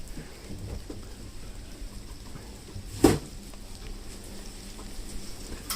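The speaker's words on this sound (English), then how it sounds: "Oh, and now it's actually raining more." Steady rain falls around a walker outdoors in Tokyo along the Tamagawa Josui path, a soft continuous patter with one brief louder splash or knock near the middle, no talk over it.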